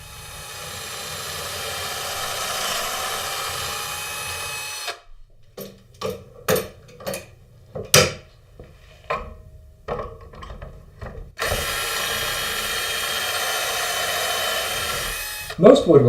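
Pocket screw holes drilled with a Kreg jig into the edges of a wooden front piece: a steady high whine of drilling in two long runs, separated by a stretch of short clicks, knocks and handling noises.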